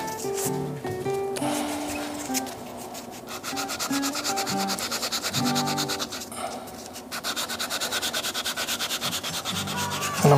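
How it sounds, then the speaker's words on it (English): The edge of a pearl white resin shaving brush is sanded round by hand, producing quick repeated rasping strokes in an uneven rhythm, close and clear with no talking. "now what I need to do is just sand that edge off, round that edge off a little bit"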